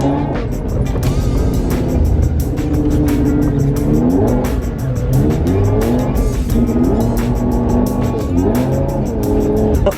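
A Lamborghini driven off-road revs hard, its engine note rising and falling in repeated surges while the tires squeal, loud and close throughout.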